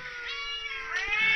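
Rescue cats meow loudly and insistently at close range, one long drawn-out cry running straight into another, with no one talking.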